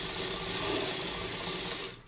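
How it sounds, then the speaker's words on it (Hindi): An electric sewing machine runs steadily, stitching the side seam of a cloth top made from leftover fabric, with a close, continuous whirring hum that winds down at the end. "और यहाँ पे साइड तक इसको सिल देते हैं"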